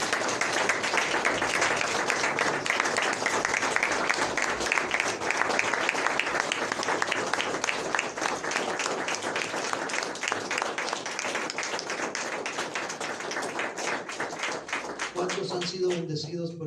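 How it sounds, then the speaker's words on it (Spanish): A church congregation applauds in a long, dense burst of rapid clapping, loud and sustained, with voices mixed in beneath and a speaking voice emerging near the end. "¿Cuántos pueden darle un fuerte aplauso al Señor?"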